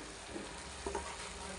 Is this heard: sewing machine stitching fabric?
no